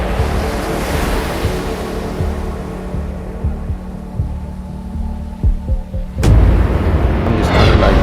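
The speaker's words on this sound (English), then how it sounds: "And boom, the third wave." Heavy ocean surf rumbles continuously and close, a low roaring wash of breaking waves with a louder crash surging in near the end; nobody talks.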